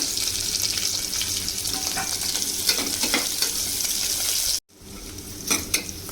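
Onions cut into large pieces fry in a pan with green chillies for Andhra-style gongura pulao, a steady broadband sizzle with occasional stirring scrapes, close and continuous, briefly cutting out near the end before resuming more quietly.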